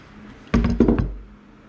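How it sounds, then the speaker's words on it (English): A hammer knocks the bottom bearing race off a Kawasaki KZ650 motorcycle steering stem, giving a quick burst of about five sharp, close, loud metallic blows that then fade into quiet. "We have to knock this race off,"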